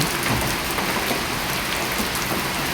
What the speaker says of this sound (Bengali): এখন মাগরিবের আজানের পর প্রচুর পরিমাণ বৃষ্টি হচ্ছে।